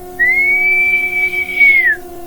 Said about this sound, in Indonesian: Aku bersiul dan memanggil kuda hitam cantik itu dengan lantang